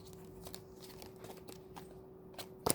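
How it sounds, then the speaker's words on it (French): Oracle cards are gathered up and put away in a few soft, scattered shuffles and taps, ending in a brief louder riffle, faint and close. "Le temps que je range mes cartes. J'en fous partout."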